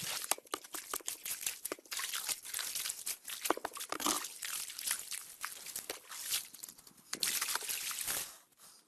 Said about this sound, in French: on va utiliser tout simplement un vieux bidon que l'on va découper